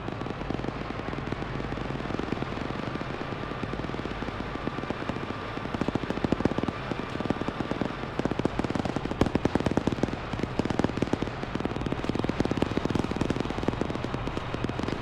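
Video game battle with tanks: dense, continuous rattling gunfire and booming blasts at steady loudness throughout, with no talk.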